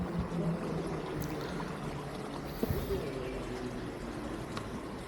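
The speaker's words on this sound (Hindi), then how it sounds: "नदी की कहीं से छोटी सी धारा बहती हुई आती है।" A small stream flows through green woodland at Kabir Chabutra, a continuous close rushing and trickling with faint bird calls.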